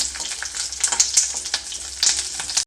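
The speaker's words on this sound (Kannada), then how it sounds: "ಮೆಣಸಿನ್ಕಾಯಿನ ಒಂದು ಸ್ವಲ್ಪ ಫ್ರೈ ಮಾಡ್ಕೊಳ್ತೀನಿ" Green chillies frying in a pan for okra chutney, a steady close sizzle of hot oil with crackling bursts and brief stirring swells, no talking.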